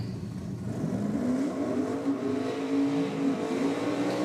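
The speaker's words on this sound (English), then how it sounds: "Two old Falcons doing battle. Lots of RPM on board there for Bonello." Two old Ford Falcon drag cars at the Nitro Champs drag racing event rev hard, their engine notes rising and sweeping in pitch, loud and sustained, with crowd-level ambience behind.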